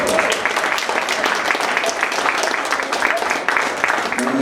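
An audience at a church gathering applauds as speaker Jean Brunet is introduced, a lively, continuous clatter of many hands with a voice audible over the clapping.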